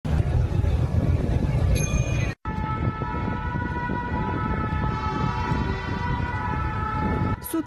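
Fire truck and ambulance sirens wail at an emergency response to a cathedral fire, a loud, steady tonal siren sounding continuously over a dense background roar, with a brief cut partway through.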